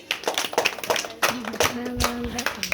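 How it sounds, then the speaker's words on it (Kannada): A small crowd claps in scattered, uneven bursts, with a voice speaking briefly over the applause. "ಚಪ್ಪಾಳೆ."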